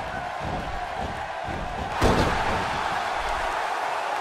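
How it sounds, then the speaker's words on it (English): Arena crowd noise from a WWE 2K16 wrestling match, a steady roar swelling after a loud slam thud midway, with thumping impacts in the ring throughout. "Would you listen to this crowd show their appreciation for these amazing competitors?"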